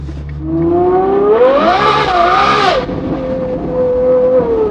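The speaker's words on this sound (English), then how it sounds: "It's such an interesting downshift." A Ferrari 812 GTS V12 with a straight-piped exhaust blipping on a downshift: a loud, close rising howl that swells sharply, peaks and falls away, then settles into a steady idle-like drone.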